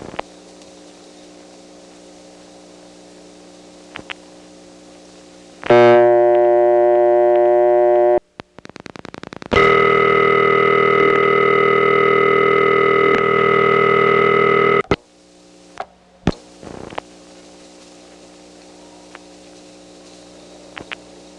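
Telephone dial tone on a Step-ESS switching test line from 1977, a steady multi-tone hum sounding in two long bursts separated by a short gap, loud over a quiet line hum with brief clicks before and after.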